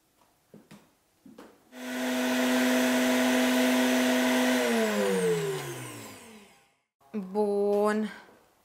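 A blender whirs steadily for several seconds while chopping onions and dill for a vegan cheese, its motor pitch dropping as it winds down, with brief clatter before and a short spin-up at the end.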